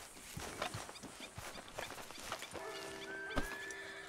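A horse in the video game Red Dead Redemption 2 whinnies amid soft clip-clop hoofbeats and ambient outdoor game sounds, moderately faint and continuous.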